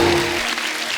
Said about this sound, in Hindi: आलिया के लिए जोरदार तालियां